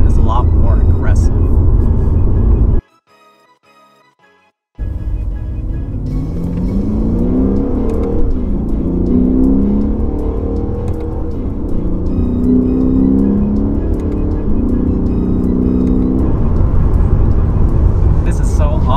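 A Lexus RC F in manual Sport Plus mode revs and accelerates hard from inside the cabin, its engine note climbing in repeated rising sweeps through gears after a brief silent gap, loud and close.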